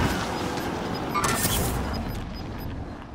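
Sustained rattling gunfire and booming explosions fill a Call of Duty Warzone match, a dense loud barrage that thins slightly toward the end with little talk.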